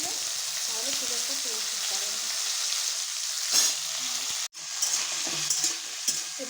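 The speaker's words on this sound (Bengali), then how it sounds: "হলুদগুলো দিয়ে এর মধ্যে দিয়ে দেবো সবজিগুলো।" Vegetables fry with turmeric in a little oil and are stirred, making a brisk, close sizzle with scraping strokes and a brief pause midway.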